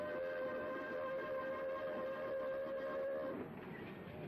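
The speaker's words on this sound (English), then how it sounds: "The narrow gauge train from Shantipur continues its journey to the terminus of the line" A narrow gauge train in 1970s India, from Shantipur, runs with a steady rumbling roll and a sustained tonal whine, fading slightly toward the end, heard from fairly close.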